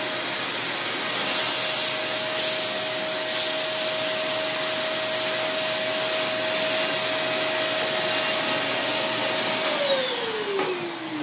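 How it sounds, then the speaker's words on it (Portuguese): A vacuum cleaner runs with a loud, steady suction roar and high whine, then winds down near the end as the motor pitch falls. "Um aspirador sugando, né, as coisas para dentro de si."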